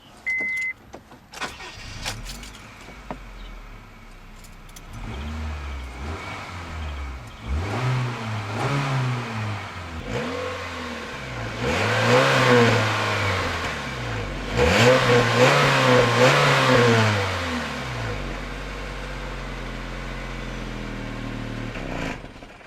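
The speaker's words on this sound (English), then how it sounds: "I wanted to show you guys a quick startup and rev for my car" A car engine cranks and catches, then revs up repeatedly in rising, falling swells before settling back to a steady idle; close and loud, no talking.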